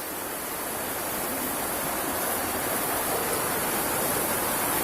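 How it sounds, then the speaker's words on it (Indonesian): River water flowing during a river crossing, a steady, dense rushing hiss that stays even and close throughout with no break. "Kita harus menyeberangi sungai guys."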